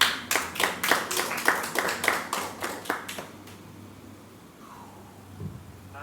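A church congregation claps together in a quick, even rhythm for about three seconds. Then the clapping stops, leaving a low room murmur.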